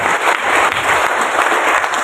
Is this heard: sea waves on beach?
no